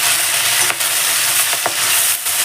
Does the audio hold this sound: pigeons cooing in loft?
no